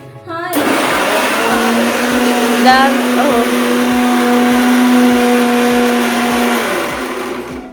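An electric grinder whirs as it grinds ginger and garlic for burgers, a loud steady motor roar that starts abruptly, holds for several seconds with a faint shift in pitch, then winds down.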